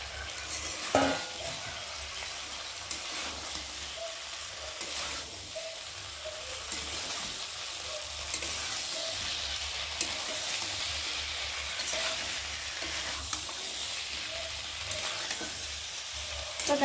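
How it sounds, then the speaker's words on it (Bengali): Soy chunks and cauliflower sizzle steadily in hot oil with spice masala as they are stirred, with scraping and clinks of a spatula against the pan throughout, close and continuous. "এখন ভেজে রাখা সয়াবিন আর কপিটাকে দিয়ে ভালো করে মশলার সাথে একটু কষিয়ে নিই"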